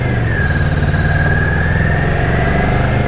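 A motorcycle engine runs steadily and loud throughout a beginner's riding lesson, a continuous mid-pitched drone with a faint rising whine, no gaps or talk.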